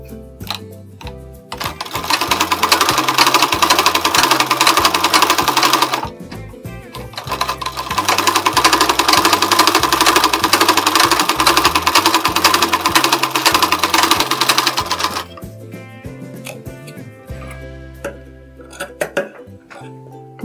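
A sewing machine stitching the seam of a blouse runs in two long loud bursts of steady rapid stitching, pausing briefly between them, then stops and leaves quieter handling noises near the end.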